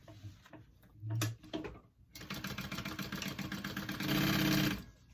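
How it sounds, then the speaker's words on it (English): Sewing machine stitching the side seams of a hip bag pocket: a few short ticking starts, then a rapid steady stitching run that grows louder before stopping. "sew up your side seams of your pocket piece, not your bottom"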